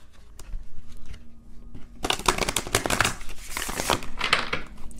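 Tarot cards are shuffled by hand: quiet handling at first, then a loud, close run of riffling, flapping card noise in bursts with brief pauses.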